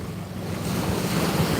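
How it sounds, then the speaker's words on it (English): Ocean waves wash in with a broad, steady rush of surf and wind that swells slightly louder midway, heard alone. "Are these not waves?"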